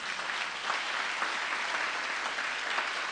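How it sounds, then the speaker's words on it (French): Steady, dense applause from a church congregation acclaiming the Lord, sustained and even throughout with no voices standing out. "On acclame le Seigneur."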